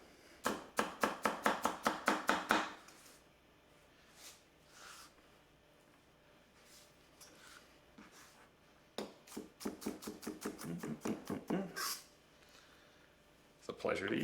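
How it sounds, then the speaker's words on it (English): A Konosuke Honyaki wa-gyuto knife chops ingredients on a board in two fast rhythmic runs of crisp knocks, with a few separate cuts and a quiet voice between them. "let's go ahead and chop these here"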